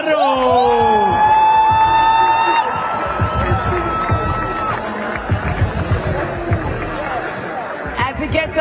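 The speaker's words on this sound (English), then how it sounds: "huge round of applause, and the crowd goes crazy!" A crowd at a Red Bull dance battle final cheers loudly, opening with whistle-like rising shouts and whoops and then settling into a sustained roar with scattered claps, while an announcer talks over it.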